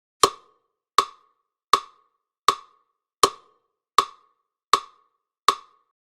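Eight evenly spaced percussive clicks with a hollow, plopping tone, steady and moderate in tempo, each decaying quickly into silence.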